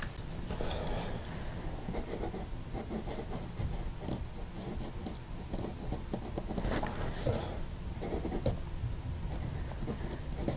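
A Moonman Wancai mini fountain pen scratching across paper, with quiet, close rubbing strokes and brief pauses repeating throughout.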